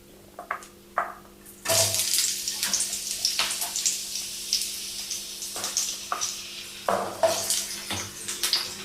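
Chopped onions hit hot oil in a pan with a sudden loud sizzle, then keep frying with a crackling hiss, punctuated by stirring scrapes and fresh bursts as more go in.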